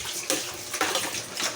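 Water poured from a tap or container into pig feed for a pregnant sow, a bright splashing gush with a few stronger surges, close by and steady throughout.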